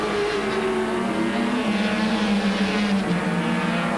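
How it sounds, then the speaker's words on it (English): A 130-horsepower racing motorcycle in a 1989 bike race at Mallory Park circuit power-slides around a bend at about 120 mph, its engine a steady, loud, high-revving drone whose pitch dips slightly as it holds speed. "power sliding that motorcycle around there at 120 miles an hour"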